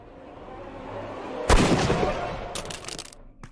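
A gunshot in Sherlock Holmes: Crimes & Punishments rings out as one loud, close crack with a decaying echo, followed by a few quieter sharp knocks and clatters.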